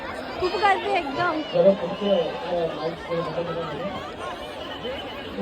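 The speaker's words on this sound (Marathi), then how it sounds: "खूप गर्दी आहे एकदम" Large crowd chattering at the Kalyan Mahotsav festival 2025, a dense steady babble of many overlapping voices with scattered laughter, loud and close throughout.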